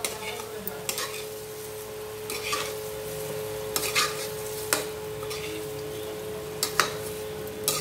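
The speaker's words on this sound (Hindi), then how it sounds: "बस हमको इतना ही फ्राई करना है आलू को" Potatoes frying in a kadhai under a constant oily hiss, with repeated sharp scrapes and clinks of a spatula against the metal pan at irregular intervals.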